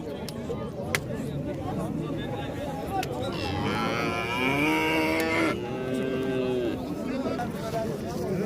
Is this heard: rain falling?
no